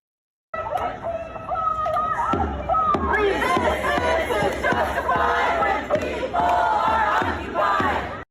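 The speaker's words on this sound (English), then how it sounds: "That's a pretty long chant," A crowd of protesters in St. Louis chants loudly in rhythmic unison, the repeated phrases coming in steady pulses with shouting voices layered over the group.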